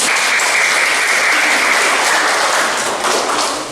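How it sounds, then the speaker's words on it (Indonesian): A classroom of students applauds together at the end of a lesson, dense continuous clapping that stays loud and fades slightly near the end. "Sekali lagi kita berikan aplaus untuk diri kita sendiri"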